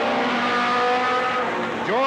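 Race cars roar past at a 1991 Cottage Grove Speedway race, a loud steady engine drone that drops in pitch near the end as another car sweeps by, with an announcer talking over it.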